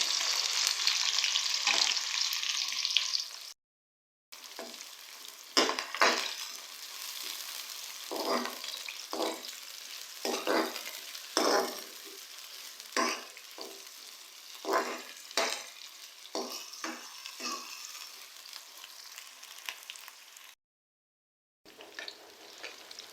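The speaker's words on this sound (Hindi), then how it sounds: "प्याज को हम लोग लाइट ब्राउन होने तक फ्राई करेंगे" Close, steady sizzling of onions frying in a pan, broken by repeated stirring scrapes and two brief silent gaps.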